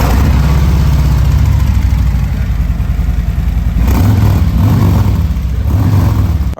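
A 2022 Harley-Davidson Street Glide with a 131 engine and new mufflers runs loud and close, a deep lumpy idle with a few throttle blips.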